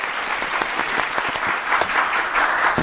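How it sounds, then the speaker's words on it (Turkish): Steady applause from a studio audience on a Turkish television quiz show, dense clapping sustained throughout at an even, fairly loud level. "Burak Bey'le alkışlar."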